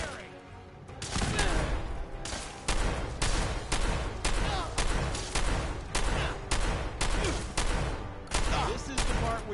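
Sustained Fallout 4 gunfire rattles in dense bursts and volleys for nearly the whole stretch, loud and close, with brief pauses between salvos and a voice occasionally mixed in.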